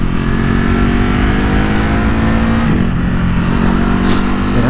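A Ducati HyperMotard or KTM SuperDuke motorcycle on twisty Welsh roads, its engine loud and close as it pulls and revs through the gears with a steady roar and rising pitch.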